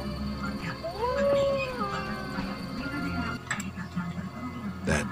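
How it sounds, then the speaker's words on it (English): A dog in The Witcher video game lets out a rising, wavering howl that fades out, set against ambient game noise with some talk around it. "Dog seems to be looking for something."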